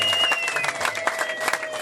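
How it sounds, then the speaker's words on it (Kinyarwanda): Wedding guests break into applause, a dense, steady clatter of many hands lasting a couple of seconds, with sustained tones running beneath it. "amashyi menshi."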